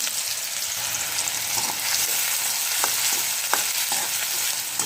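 Chopped onion and cumin seeds sauté in a couple of spoons of oil, a steady close-up crackling sizzle broken by a few sharp spatula taps against the pan.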